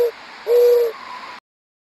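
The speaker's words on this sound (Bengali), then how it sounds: "ঘুঘু পাখির সাউন্ড কীরকম?" A dove cooing: two close, clear hooting coos, a short one followed by a longer one, ending abruptly.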